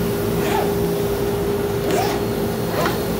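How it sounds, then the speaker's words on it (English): A shop vacuum runs steadily in a sign workshop, a continuous close, loud drone with a constant hum. "I'm going to turn my vacuum on"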